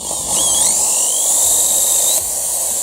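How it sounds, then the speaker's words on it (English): A drill cuts off the bottom of a homemade geocache container with a loud, continuous high whine whose pitch sweeps upward early on, then holds steady until a slight drop near the end. "I'm back to a big drill."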